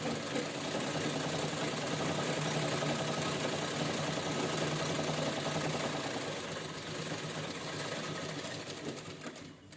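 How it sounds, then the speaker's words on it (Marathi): A sewing machine stitches a cloth organiser for storing plastic carry bags, its steady whirring hum running continuously and close up for the whole stretch, easing slightly near the end, with no talk. "ह्याच्यावर आपण शिलाई करून घेऊया"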